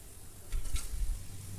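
Country chicken (natukodi) pieces hitting a hot pan for a spicy village-style curry, a quiet sizzle that swells into a louder burst of frying and stirring clatter midway, then settles back, with no talking.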